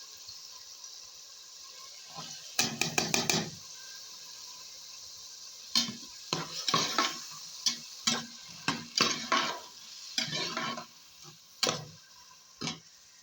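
Chicken sopas with cubed carrots cooking in a pot: scattered clinks and scraping stirs at close range over a steady low background, with bursts of clattering around the pot and no talking.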